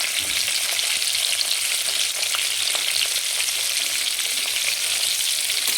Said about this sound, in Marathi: आणि आपल्याला हे छान फ्राय करून घ्यायचं